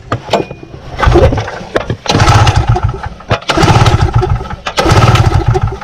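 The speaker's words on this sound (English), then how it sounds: "We'll turn it on. My tailgater. And we'll give it a couple turns." A Tailgater two-stroke portable generator is pull-started several times, each yank giving a loud, sputtering burst of engine noise that dies back before the next pull, close by.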